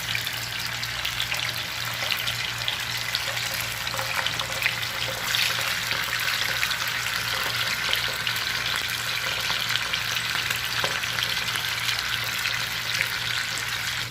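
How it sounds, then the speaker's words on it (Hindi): Marinated fish frying in oil, a steady dense crackle and sizzle held at an even level with a low hum underneath, nearby and uninterrupted by speech. "इसको हम लोग डालेंगे अपना तेल में, और इसको फ्राई करेंगे दोस्त लोग"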